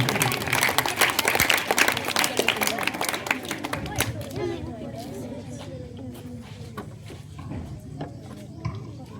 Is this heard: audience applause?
yes